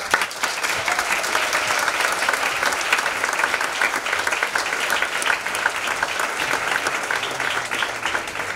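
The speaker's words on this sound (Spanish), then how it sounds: "pido un fuerte aplauso para todos los chicos que han formado" Audience applause from a crowd gathered to honour a group of young people, dense steady clapping filling the whole stretch at an even loudness with no voices over it.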